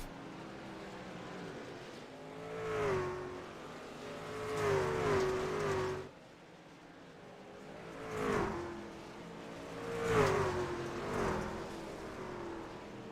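Race trucks tearing around the Eldora Speedway dirt oval, engines swelling and fading in repeated waves as the pack passes by, loud then receding, with no voices.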